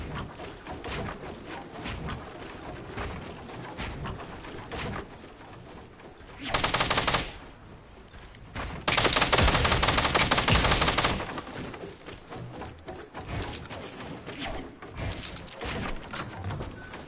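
Rapid machine gun fire in a shooting game, with dense bursts loudest around the middle and a sustained barrage that then gives way to continuing, busier gunfire.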